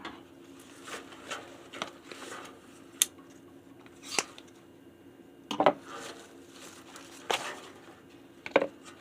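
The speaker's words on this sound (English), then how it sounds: "I'm going to have to cut that root" Sharp snips of cutting through the tough root of a pot-bound ficus while transplanting. Several crisp, separate clicks and crunches sound close by, spaced irregularly across the moment, with faint rustling between them.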